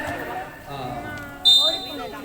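A sharp electronic game buzzer blares for about a quarter second at the end of a basketball game, over a noisy, crowded room with voices and shouting.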